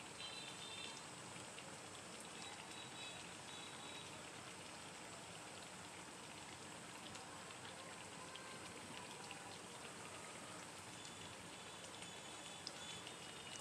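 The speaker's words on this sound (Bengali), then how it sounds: "এবার আমি প্রত্যেকটা বেগুনি আবারও উল্টে পাল্টে সুন্দরভাবে পিষ্টি ভেজে নেব।" Small eggplant fritters (beguni) fry in oil over medium heat, a faint, dense, even crackle and sizzle that runs steadily without a break and without voices.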